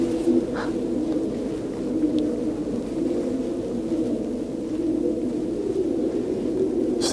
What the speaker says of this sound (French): C'est pigeons, ça. Ouais,